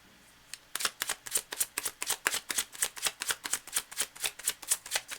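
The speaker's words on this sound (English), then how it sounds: "Cards are well shuffled now" A deck of tarot cards being riffle-shuffled up close, a rapid, steady train of crisp papery flicks repeating about every quarter second for several seconds, with no talking.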